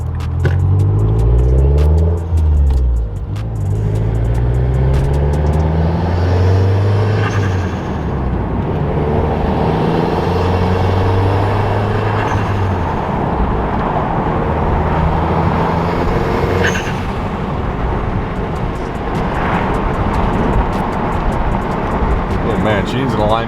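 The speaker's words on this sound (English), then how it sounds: "car sounds freaking great" A Mazdaspeed 3 engine and exhaust run steadily with a deep droning rumble and shifting revs, heard close throughout while a person talks over it.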